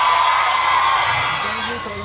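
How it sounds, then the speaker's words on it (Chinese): A packed crowd screams loudly and continuously at an evening outdoor concert, a dense roar of cheering voices that holds steady and fades slightly toward the end. "可以再让我们听一下你们的尖叫声"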